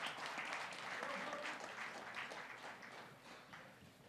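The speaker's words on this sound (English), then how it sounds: "Can we have a huge round of applause," An audience at an industry inaugural session with a minister in Tamil Nadu applauds: faint, distant, continuous clapping that stays even, then gradually softens toward the end.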